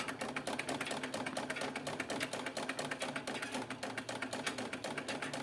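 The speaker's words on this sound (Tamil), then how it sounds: "இப்போ நம்ம காலை வச்சு பெடல் பண்ணுறோம் பாருங்கள்" A pedal-operated treadle sewing machine runs with a fast, steady mechanical ticking and clatter throughout. The sound is fairly quiet and close, with no talking.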